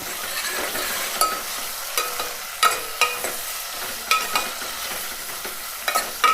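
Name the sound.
tomatoes and green chilies frying in oil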